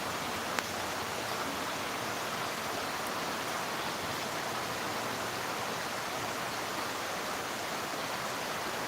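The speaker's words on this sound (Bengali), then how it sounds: "খুব সুন্দর লাগছে বৃষ্টি দেখে।" Heavy rain in Guwahati heard from a second-floor balcony, a dense, steady roaring hiss of downpour that stays constant throughout, with no voices.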